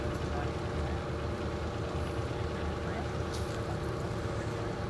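Motorboat on the Purna river at Dhupeshwar, its engine droning steadily and evenly throughout at moderate distance, with no gaps.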